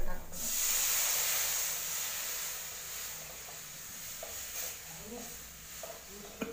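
Hot water poured into a pan of tempering fried with asafoetida bursts into a loud, sharp hiss that slowly softens into a steady simmering sizzle, with a voice faintly heard later.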